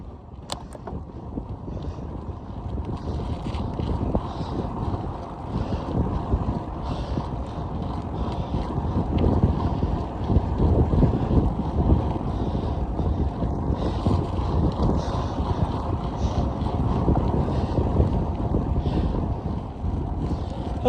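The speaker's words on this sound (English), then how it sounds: "Look at that wind." Strong wind roars steadily over the microphone during a long bike ride, a loud, continuous rushing buffet with low rumble and gusty swells lasting throughout.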